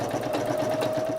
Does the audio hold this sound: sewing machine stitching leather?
yes